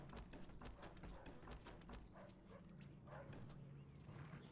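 A dog in a video game barks repeatedly in a rapid series of sharp yaps, moderately loud over a steady low background rumble.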